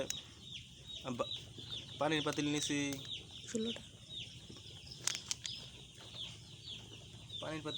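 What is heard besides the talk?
broiler chicks chirping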